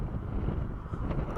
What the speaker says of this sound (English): It's windy, so try to block the wind.